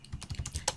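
Quick keystrokes on a computer keyboard while code is written, about half a dozen soft clicks in rapid succession, close and alone.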